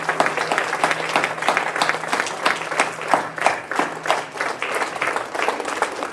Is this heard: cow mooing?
no